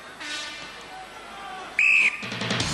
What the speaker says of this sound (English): Contenders, you will go on my first whistle.